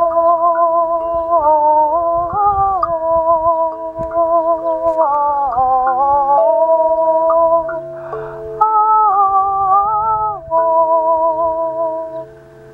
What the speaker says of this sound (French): C'est le chant des sirènes.